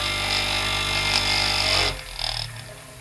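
A salvaged electric motor runs loudly on its base with no rubber pad underneath, giving a strong, steady droning hum that cuts off partway, followed by a brief rattle.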